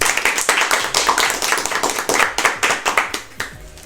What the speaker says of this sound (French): Veuillez applaudir Valou.